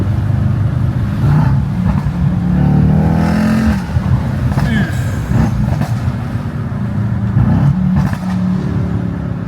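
A Mercedes E63 S with a V8 engine revs loud and close, its deep growl rising and falling through several throttle blips, with a few brief voices mixed in.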